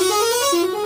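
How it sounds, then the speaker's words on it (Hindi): A sleeper bus horn from Bus Simulator Indonesia honks twice in quick succession, loud and close, with a bright, musical multi-tone blare. "जो स्लीपर बसें हैं उनमें ज़्यादातर यही हॉर्न लगा रहता है आपको सुनाई दे रहा है"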